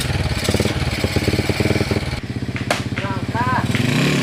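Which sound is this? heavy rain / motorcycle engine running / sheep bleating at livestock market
motorcycle engine running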